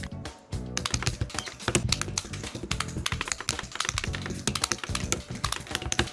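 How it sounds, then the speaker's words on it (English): Keycaps and switches are pulled from a Wooting 60HE V2 keyboard, producing a dense run of sharp plastic clicks and clacks, close and busy with no pauses. "Step 1, remove the keycaps and the switches."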